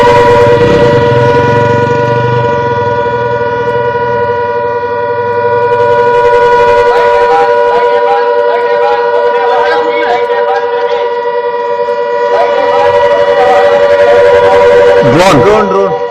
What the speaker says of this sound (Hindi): सायरन की आवाज आप सुनिए